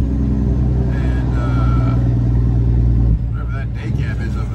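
Kenworth truck engine droning loud and steady with heavy low rumble, then dipping abruptly as a gear shift is missed, the pitch dropping and the engine note continuing more unevenly from inside the cab.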